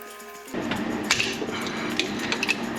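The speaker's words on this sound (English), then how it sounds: "I'm just using a chisel." A chisel pries gear-shift cables off the gearbox lever of a Porsche 996/997 during a transmission part install, with close scraping, clinking metal taps and small snaps after a quiet start.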